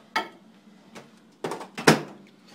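A few clattering knocks of a metal pot of chicken legs being put back into a microwave oven and set down, sharp and close, with short pauses between them.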